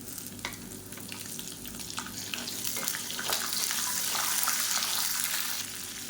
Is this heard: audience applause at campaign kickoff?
no